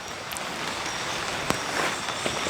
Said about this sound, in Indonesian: Ya Allah, hujannya makin deras.